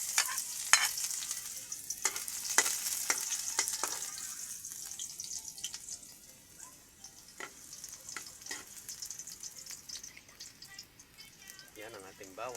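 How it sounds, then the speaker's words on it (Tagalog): Garlic, onion, ginger and tomato begin sautéing in a pan, a faint, airy sizzle with scattered clicks and scrapes of stirring, fairly quiet and steady, with a bit of distant sound near the end. "Gigisa na tayo."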